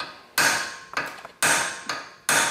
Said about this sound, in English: I'm hitting it pretty hard and it's not wanting to come out.